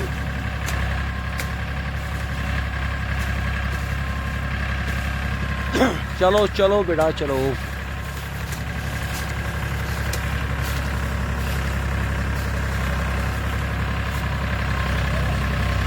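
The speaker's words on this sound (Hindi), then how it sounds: "अब देखते हैं ट्रैक्टर क्या करता है।" A Farmtrac 45 tractor engine hauls about fifteen heavy iron pipes, roughly 30–40 quintals, through a wet field. It makes a steady low rumble from start to finish, and a voice calls out briefly in the middle.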